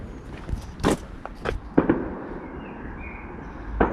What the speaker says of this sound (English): I hope there are fireworks in the background, not gunfire